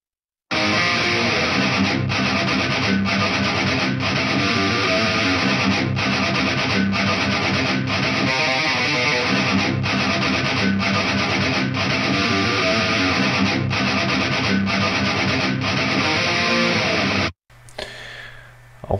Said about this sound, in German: Und so klingt das Ganze dann mit dem Audio Assault Hellbeast.